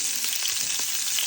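Steak frying in hot oil in a pan, a dense, steady sizzle with small crackling pops, close and continuous with no voices over it.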